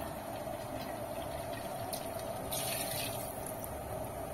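Water pours steadily into a cooking pot of chicken dum biryani, a soft continuous splashing and gurgling at low volume.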